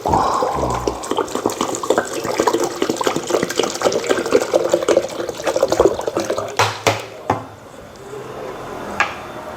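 Water poured into a pot or blender for Korean crab porridge made with small shore crabs, a steady splashing pour in the foreground ending in a few separate drips and clinks.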